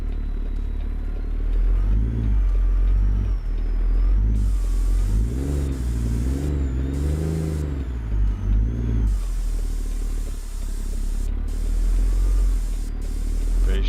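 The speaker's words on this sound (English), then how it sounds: "You can just hear the engine basically." A logging truck's engine runs while hauling on winter roads, a loud continuous diesel drone that rises and falls in pitch as it revs, with faint clatter and no talk.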